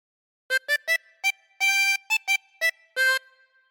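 A 24-hole tremolo harmonica plays a short phrase of Oh Susanna, a series of wavering reedy notes, several quick and a few held longer, clear and alone.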